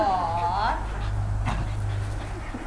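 A puppy lets out a rising, drawn-out whine and then pants softly under a steady low hum, with people talking nearby.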